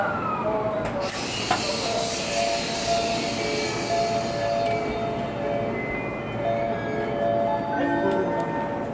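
A Chuo Line through train moves at Haijima station during coupling and splitting, a steady rolling rumble with faint whining tones and occasional clanks, station ambience around it.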